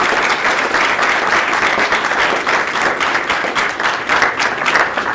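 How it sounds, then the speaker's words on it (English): An audience gives speakers a round of applause, with dense, sustained clapping from a sizable crowd that stays loud and even throughout with no talk over it. "we're giving a round of applause"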